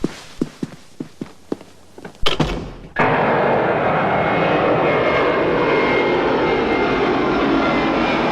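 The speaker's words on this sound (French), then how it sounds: "L'avion provenant de l'aéroport international de Bagdad vient de se poser." An airliner arriving from Baghdad International Airport, heard after a few footsteps and thumps: a sudden loud, sustained engine roar takes over and holds steady and close to the end.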